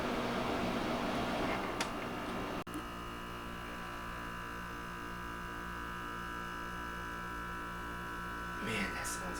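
A GE 5000 BTU window air conditioner runs with a steady, close mechanical hum and even droning tones, holding level throughout, with a couple of faint clicks and a brief rustle near the end.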